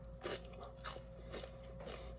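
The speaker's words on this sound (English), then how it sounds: "I don't know if you could hear that, but that was a crunch." Someone bites into and chews a crunchy homemade anti-inflammatory seed cracker: several loud, crisp crunches come close to the mic in an uneven chewing rhythm over a low background hum, with no talk.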